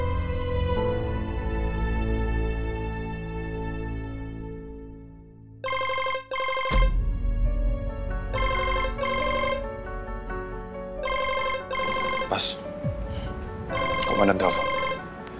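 A telephone ringing with repeated electronic bell-like bursts in regular rings, loud and close, over a sustained musical background, with a brief gap before the rings begin.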